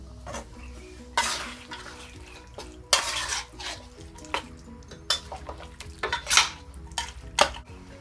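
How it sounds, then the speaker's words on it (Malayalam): Kappa biriyani, a tapioca and beef dish seasoned with garam masala, being stirred in a pot: repeated scraping and clinking strokes of a utensil against metal, with faint sizzling between them, close and fairly quiet. "ഒരു 1/2 ടീസ്പൂൺ ഗരം മസാലയും കൂടി ഇട്ട് നമുക്ക് ഇളക്കി മൂടി വെച്ച് കഴിക്കാം."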